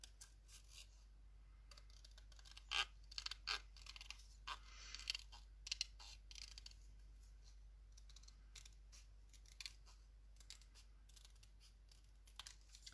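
Small scissors snip through folded paper in a quiet series of short, crisp cuts and crunches, close up against a low steady hum.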